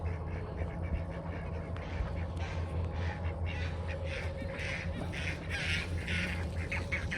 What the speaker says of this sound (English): Watch these ducks.